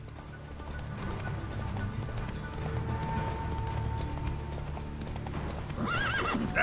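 A horse in The Witcher 3: Wild Hunt gallops with rapid, rhythmic hoofbeats under game ambience, then lets out a loud neigh at the end.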